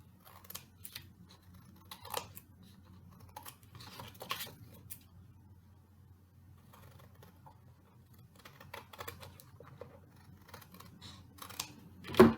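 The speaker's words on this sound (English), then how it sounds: "I'm going to do this with my scissors. So I'm going to cut that down." Scissors make quiet, scattered snips while trimming edges for book arts. Short cutting bursts come in irregular clusters with pauses between, and a slightly louder snip lands at the very end.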